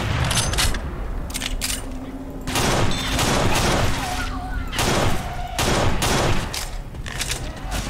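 Sniper rifle gunfire in a video game: several loud, sharp shots spaced a second or so apart, each with a booming tail, over steady background game noise.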